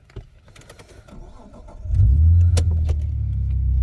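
A Holden Commodore's engine cranks and catches after faint key jangling and handling noises, then settles into a loud, steady idle close by.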